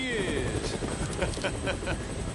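Helicopter flying in the video game Dead Rising, its rotor thudding steadily under game music and a voice talking over it.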